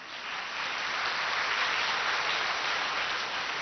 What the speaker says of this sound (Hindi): भले ताली बजाओ।